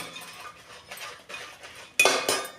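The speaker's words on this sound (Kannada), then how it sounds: "ಇವಾಗ ಹಾಕಿ ಚೆನ್ನಾಗಿ ಕೈಯಾಡಿಸ್ಕೊಂಡ್ಬಿಡ್ತೀನಿ" Red chillies and turmeric powder stirred in a pan while making huli sambar powder: a spoon scrapes and clinks against the metal in short uneven strokes, with a sharper, louder clatter near the end.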